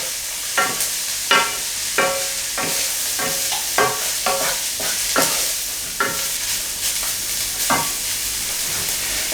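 Plant-based mince fries in a pan under a loud, steady sizzle, while a utensil scrapes and stirs it in repeated strokes about every second.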